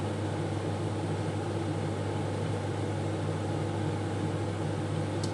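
A kitchen range hood fan runs steadily at close range, a constant broadband whoosh with a low hum, unchanging throughout with no one speaking.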